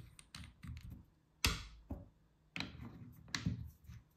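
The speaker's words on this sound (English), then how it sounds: "just unscrew the protection cap" Light plastic clicks and ticks from unscrewing the protection cap on a Tokyo Marui MP5SD6 airsoft gun, a few quiet, close, irregular snaps with pauses between them.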